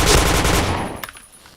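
A rapid burst of automatic gunfire in the video game Point Blank rattles loudly and close, then cuts off and fades into a quiet tail with a few faint clicks.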